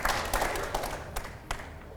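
Studio audience applause during an interview show, clapping in irregular bursts with a few sharper thumps, moderately near and fairly faint, with no talk over it.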